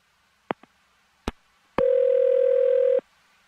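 A telephone call goes out: a few sharp clicks and a beep, then a loud, steady dial tone that holds for about a second before cutting off.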